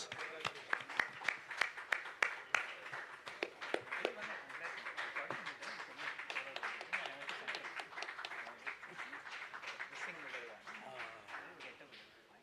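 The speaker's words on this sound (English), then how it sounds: "So Tejas Venkatraman of Citi, please give him a big round of applause" An audience at a quiz semi-final in Chennai claps in sustained applause, starting with sharp scattered claps and settling into a dense, steady patter that fades slightly toward the end.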